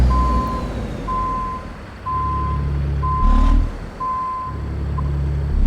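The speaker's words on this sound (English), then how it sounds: "We're gonna have to do some extended backing here. We gotta get the trailer swung around." A tractor-trailer backing up in American Truck Simulator, with an evenly spaced series of five clear reversing beeps over the truck's low, steady engine drone, a brief air-brake-like hiss in between.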